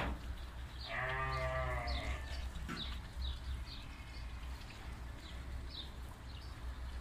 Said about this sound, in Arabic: كلهن خرفان